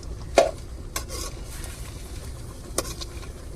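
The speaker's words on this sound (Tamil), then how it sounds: "இப்போ நம்ம காயை வந்து நல்லா வெங்காயம் கருவேப்பிலையோட கலந்து விட்டுருவோம்" Cabbage is stirred with onion and curry leaves in a pan, with a soft sizzle under a few distinct utensil scrapes and knocks against the pan, close and quiet.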